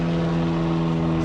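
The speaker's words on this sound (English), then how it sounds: "there's a plane overhead" A small airplane passes overhead during a fishing outing, its steady droning engine hum holding strong and even throughout the moment with no talk.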